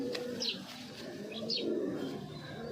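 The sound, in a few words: giribaz pigeon cooing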